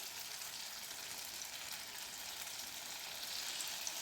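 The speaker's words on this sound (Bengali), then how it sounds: "পকোড়াগুলো হালকা ব্রাউন কালারে ভাজতে হবে।" Rice pakoras frying in hot oil, a soft continuous sizzle and crackle heard close up and without talk.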